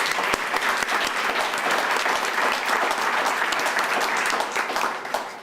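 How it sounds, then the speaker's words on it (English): An audience at a city neighborhood awards celebration applauds steadily, dense clapping filling the room at close range and fading slightly at the end, with no talk over it. "So please, a round of applause for everyone."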